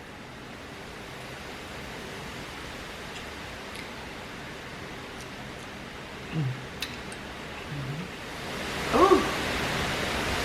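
Hurricane Helene's wind roars through a few rows of trees as a constant, broad, hissing rush, with a brief exclamation from a person near the end.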